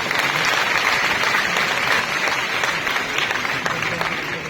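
An audience applauding Chief Minister Manohar Lal's speech at a university event, sustained dense clapping throughout with faint voices beneath.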